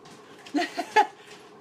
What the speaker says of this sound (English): My dog is moaning.